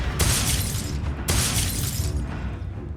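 Two loud fiery blasts from the Confringo spell in Hogwarts Legacy, each a sudden broadband burst with a crackling, shattering tail, the second followed by a fading rumble.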